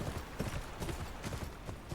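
Horse hooves clip-clopping in Game of Thrones Kingsroad, a quiet, steady walking rhythm of soft hoof falls over a low ambient game background.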